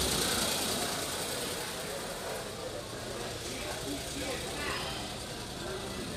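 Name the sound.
Daewoo Damas minivan engine idling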